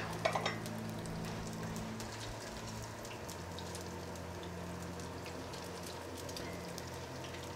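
Soft, continuous sizzling and crackling of mushroom caps frying in garlic butter in a pan, steady throughout with a brief clink near the start.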